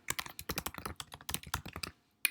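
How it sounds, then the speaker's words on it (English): Fast typing on a computer keyboard: close, crisp key clicks in quick bursts, then a short pause and one final tap. "type the @ sign like you're on Facebook or Twitter and type in that person's email address"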